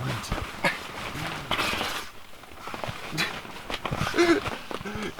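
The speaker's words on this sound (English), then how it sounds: "Look at these stinky doggies." Dogs whimpering and fussing inside a tent on a rainy morning, with short high whines and soft movement close by, as someone talks to them over the sounds.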